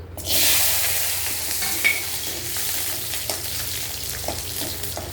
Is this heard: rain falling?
no